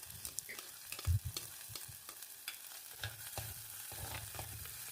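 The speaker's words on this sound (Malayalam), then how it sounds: "കൊച്ചുള്ളി നന്നായിട്ട് ചോപ്പ് ചെയ്തെടുത്തിട്ട് ഈ കടുക് വറുത്തതിനകത്തെ കൊച്ചുള്ളി" Chopped shallots sizzle in hot oil over popped mustard seeds in a Kerala kitchen pan, a soft continuous frying hiss with intermittent stirring scrapes and clinks, fairly quiet and close.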